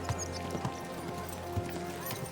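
Horse hooves clip-clop at a steady trot in the video game Kingdom Come: Deliverance 2, a run of close, regular thuds over a constant busy background.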